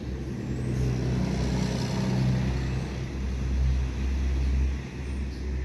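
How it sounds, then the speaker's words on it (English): Big trucks rumbling along a residential street, a loud, continuous low engine drone that swells and fades as vehicles pass nearby, with no voices. "There's a lot of big trucks driving up and down my street right now"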